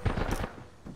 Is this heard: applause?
no